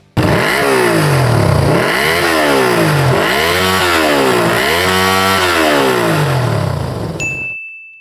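A Yamaha VMax V4 motorcycle with its original exhaust revs loudly up and down in four rising and falling sweeps, a deep throaty engine roar close by, before a brief high horn-like tone at the end.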